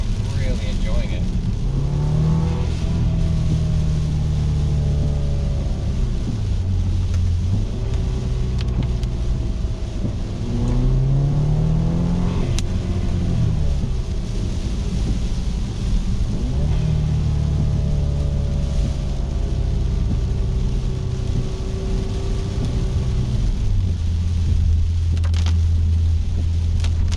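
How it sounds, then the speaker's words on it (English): A BMW 328i fitted with a 335i exhaust, with active sound design turned off, is driven on the road. Its engine drones from inside the cabin, rising and falling through gear changes under steady road rumble, with someone talking throughout. "now that I'm hearing the actual exhaust"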